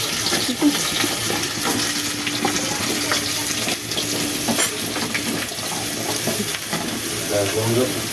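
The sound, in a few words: vegetables frying in a pan for shukto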